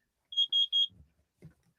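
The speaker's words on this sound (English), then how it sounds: "it's a smoke detector going off in my room" A smoke detector sounds off in a room with three short, piercing high beeps in quick succession, followed by faint low thumps and a brief muffled noise.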